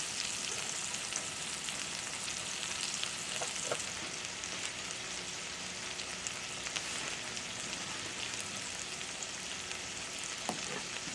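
An Oklahoma-style onion burger patty sizzles steadily on low heat in a pan, a continuous even frying hiss with a few faint pops and no talking.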